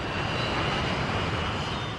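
Twin-engine passenger jet airliner engines giving off a steady, dense roar with a faint high whine on top, constant and unbroken throughout.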